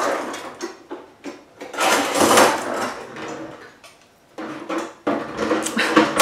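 A sharp kitchen utensil is grabbed while making a homemade pumpkin pie, with close clattering and scraping of metal against dishes and pans in irregular bursts. There are brief quiet gaps and no voices.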